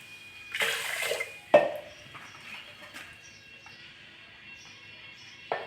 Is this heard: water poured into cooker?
yes